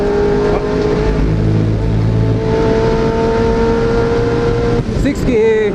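A car engine pulls hard around a track lap, loud sustained revving with rising harmonic tones close up, then a quick gear change and a brief dip before it picks up again.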